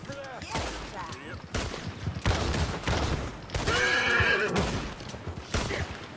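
In Red Dead Redemption 2, a horse gives loud, shrill neighs and whinnies amid hoof clatter and bursts of gunfire.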